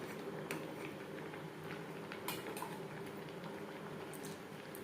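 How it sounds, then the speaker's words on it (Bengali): Masoor lentils boil in a pot on a gas stove, a steady close bubbling wash with small irregular pops and ticks running throughout, no voices. "ডাল ফুটে ওঠা পর্যন্ত অপেক্ষা করব।"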